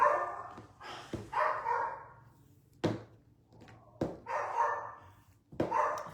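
A dog barks in several sharp bursts at a box delivery on a home porch, loud and close, with short pauses between each round of barking.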